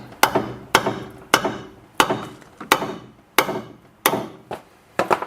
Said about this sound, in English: Quite tight, so hammer will need to be there as well.